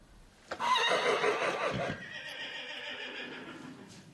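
A horse whinnies loudly and close at a horse sanctuary, a sharp rising call that breaks into a long shaky neigh before trailing off into a quieter held tone.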